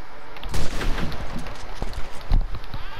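Video game gunfire rings out in a rapid series of booming shots against a steady background rumble, loud and close, with no speech.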